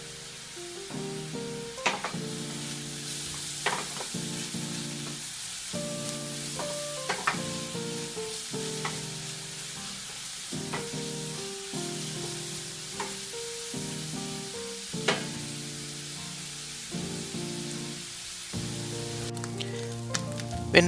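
Curry leaves and goat liver frying in a pan, a soft crackling sizzle broken by repeated stirring strokes and scrapes at irregular intervals, no voices.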